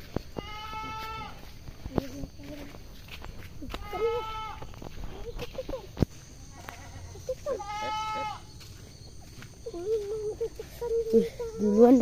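Goats bleat several times in clear harmonic calls spaced a few seconds apart, close by, with a person speaking faintly in between and some rustling near the end.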